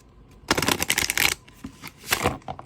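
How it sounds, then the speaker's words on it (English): A new, slightly stiff tarot deck shuffles in two loud, close bursts of riffling card flutter, the first longer and denser, the second shorter, with no voices. "I think it shuffles pretty well."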